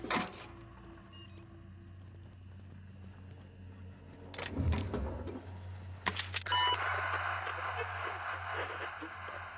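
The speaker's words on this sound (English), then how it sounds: "Intercom turns on with a click-click noise preceding a beep." Intercom in The Outer Worlds factory, a pair of sharp clicks followed by a short beep, over a low steady mechanical hum, with faint talk in the background.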